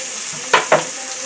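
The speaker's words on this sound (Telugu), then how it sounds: "ఇవి బాగా ఫ్రై అవనిద్దాం." Four chopped onions and four green chillies frying in a pan, with two brief stirring scrapes over a steady soft sizzle close by.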